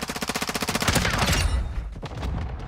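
Hurricane SMG in Modern Warfare 2 fires a fast, evenly spaced automatic burst, then a denser clattering flurry and a few scattered later shots, loud and close with no voices.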